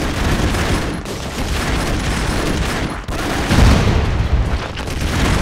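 Relentless minigun fire and booming explosions from the side-scrolling action game Broforce, a loud continuous roar of rapid shots with heavy blasts punching through near the middle and again toward the end.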